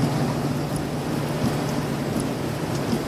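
Heavy rain pours down steadily in a dense, loud hiss with a low rumbling undertone, constant throughout with no voices.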